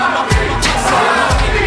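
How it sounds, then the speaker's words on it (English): Wrestling event crowd shouting in a short, loud, dense roar with a few raised voices cutting through. "the crowd is making their voices heard for Robbie Illuminati"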